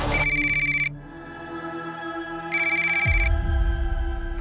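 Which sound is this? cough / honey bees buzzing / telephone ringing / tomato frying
telephone ringing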